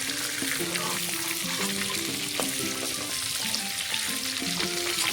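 Shrimp fry in a pan for a Bengali coconut-milk malai curry, giving a steady, close sizzle throughout with soft background music underneath.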